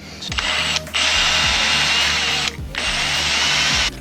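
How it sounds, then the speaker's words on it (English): A power drill whirs loudly in two long bursts drilling out a battery cable eye, separated by a short pause, with a brief spin-up before each run, close by. "I think instead of changing the end out, I'm just gonna drill it out"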